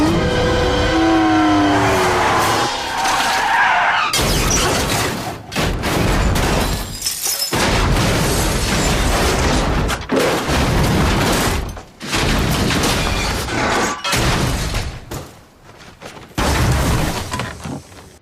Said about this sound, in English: Flipping a car, Casino Royale.